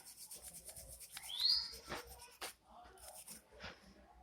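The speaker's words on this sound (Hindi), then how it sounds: "चलिए एक बार ब्रश मार लेते हैं।" A brush scrubs a burnt LED bulb driver circuit board in short rubbing strokes, close and fairly quiet, with a faint bird chirp in the background.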